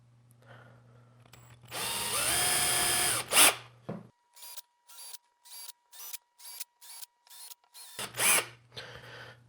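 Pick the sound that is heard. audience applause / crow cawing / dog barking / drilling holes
drilling holes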